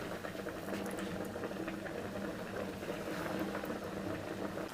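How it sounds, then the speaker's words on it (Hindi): Breaded pieces frying in oil in a pan: a dense, continuous bubbling crackle at an even moderate level throughout, close and without talk. "ये देखिए इनको फ्राई करेंगे"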